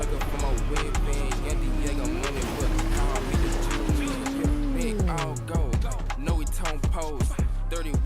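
A car driven in a battle royale video game, its engine drone rising and falling with a long gliding pitch sweep over about eight seconds, loud and steady, with game effects and people talking over it.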